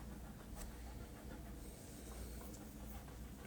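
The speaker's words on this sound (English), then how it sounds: "if you hear the panting in the background, that is the pups." Soft, steady panting from dogs nearby, a continuous breathy hiss without any talking.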